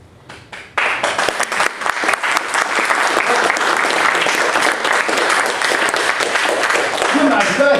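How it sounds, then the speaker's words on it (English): A lecture audience breaks into applause after a short quiet lead-in, building to full loud clapping within a second and staying dense and sustained, with scattered voices mixed into the crowd. "you clap before your time because you have to clap for yourself afterwards"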